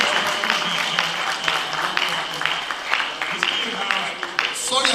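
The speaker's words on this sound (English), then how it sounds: "Please, a round of applause for Mr. President." Audience clapping for the president at a human rights organisation's annual general conference, a steady patter with sharp individual claps throughout, while voices carry on over it.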